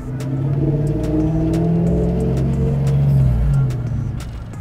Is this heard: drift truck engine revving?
yes